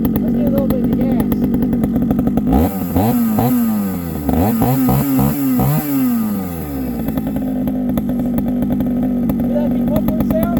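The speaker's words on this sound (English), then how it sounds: "Hear that big muffler sound?" Polaris Razor four-wheeler engine with a big gun exhaust muffler idles with a loud, close, throaty putter, then revs up and down in several rising and falling swells before settling back to a rough idle.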